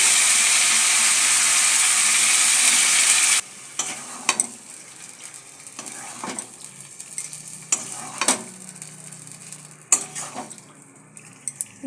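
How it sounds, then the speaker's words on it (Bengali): For Bengali chicken kosha, pieces of chicken go into hot spiced oil: a loud sizzle rushes for a few seconds, then drops to a softer fry broken by scraping stirs and clinks of a spoon against the pan. "দেখো মশলায় তেল ছেড়ে গেছে, এবার মাংসটা দিয়ে দেবো।"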